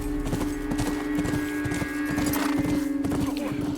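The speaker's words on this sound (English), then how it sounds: "unfortunately we gotta say bye to Callus here. That's the name of the horse." A horse named Callus trots in The Last of Us, its hooves clip-clopping in a quick, steady rhythm over a sustained low musical drone, close and clear.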